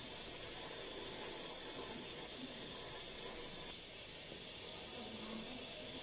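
Raw mango sharbat boiling in a pot gives off a steady, loud hiss of steam with soft bubbling beneath, easing slightly partway through; no one speaks.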